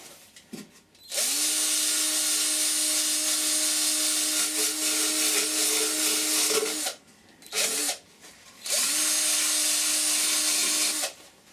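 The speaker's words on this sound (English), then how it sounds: "Just start at 120 and just power sand it all the way around to them edges." A power sander works a turned sycamore wood bowl at 120 grit, a loud steady whirring drone that runs several seconds, cuts out briefly, spins up again, and stops.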